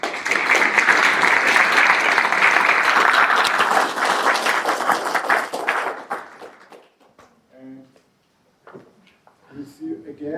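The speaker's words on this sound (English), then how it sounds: "give him a big applause" Dense audience applause at a tech conference session, loud and sustained for about six seconds, then fading out into a few quiet voices speaking.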